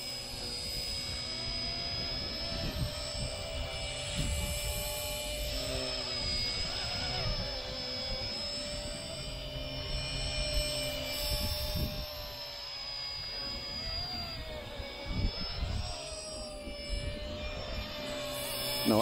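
An RC ERA C032 Huey model helicopter flies with a constant high-pitched electric whine and rotor hum. The sound is fairly distant and steady throughout, with slight pitch wavers as it maneuvers.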